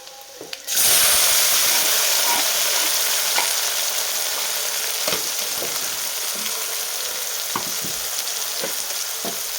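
Tomatoes dropped into hot tempering oil for masala dal, bursting into a loud, steady sizzle after a brief quiet start, with occasional stirring clicks and crackles close by.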